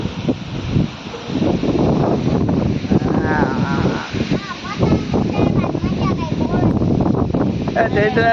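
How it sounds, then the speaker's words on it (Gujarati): Strong storm wind with rain gusts steadily across the microphone in Jetpur, a dense continuous roar with rustling buffeting, while people talk over it throughout. "કેવો પવન છે"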